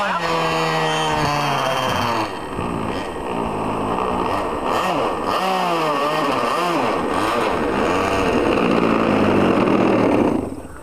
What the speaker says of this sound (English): First time the engine wouldn't come down on idle.